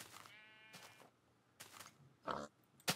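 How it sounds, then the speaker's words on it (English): Video game pig making short grunts and oinks, several brief calls spaced apart and fairly close, mixed with a bleating sheep-like call, with no talking. "There's a flying pig."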